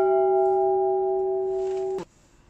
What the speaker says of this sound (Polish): Dzwon został odnowiony i zautomatyzowany przez firmę Felczyńskich z Przemyśla.